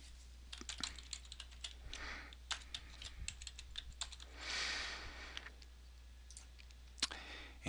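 Quiet computer keyboard typing and a few mouse clicks while logging in to a workplace task system, in irregular bursts with brief pauses, close and soft.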